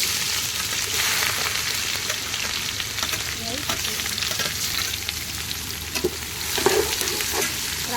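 Onion fries in a pan with mustard seeds and cumin, a steady close sizzle with frequent stirring clatter and spoon taps against the pan, no talk.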